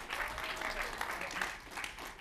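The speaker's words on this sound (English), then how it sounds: "Gratuitous applause." A conference talk audience claps in a brief burst of steady, moderately loud applause, a dense wash of hands with a voice faintly underneath.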